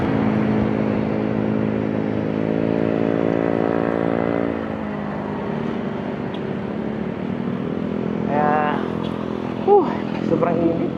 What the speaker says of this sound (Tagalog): Ingay talaga yung yung mga motor, yung mga malaking tambutso.